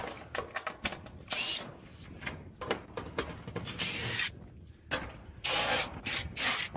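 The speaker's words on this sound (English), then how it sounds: "So, start taking out screws." Bursts of a power drill whirring in short runs as screws are backed out of a roof, irregular starts and stops with scraping and handling noises in between.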